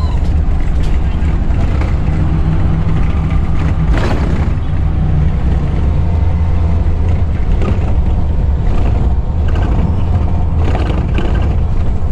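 Steady low engine drone of a Bicol Isarog sleeper bus driving from Naga, a continuous rumble with road and wind noise inside the cabin, no talking.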